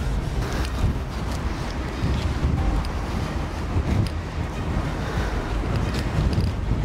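Strong wind buffets the microphone on a North Sea beach at Westenschouwen, Zeeland, during a storm surge, with a continuous roar of surf and gusts underneath and no pauses.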